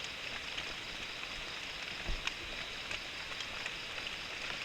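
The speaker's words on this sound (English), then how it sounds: "So, the rain started." Steady rain falls in a Malaysian jungle at night, a soft continuous hiss with scattered faint drip taps and a low thump, heard alone with no talking.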